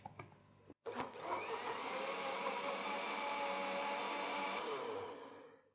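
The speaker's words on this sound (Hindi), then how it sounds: "तो ये मैं इसमें डाल रही हूँ और अब इसे हम ब्लेंड कर लेंगे।" An electric kitchen blender whirs steadily while blending vanilla ice cream into a milkshake, starting after a brief click, holding a loud, even motor drone for several seconds, then winding down at the end.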